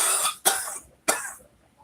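A person's dry, raspy cough comes in three harsh, close bursts about half a second apart, each trailing off, with no talking.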